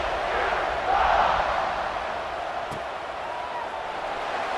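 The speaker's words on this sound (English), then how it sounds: "this crowd is buzzing after that last score" Stadium crowd buzzing in an American football video game, a steady broad roar of many voices that swells briefly then settles, continuous throughout.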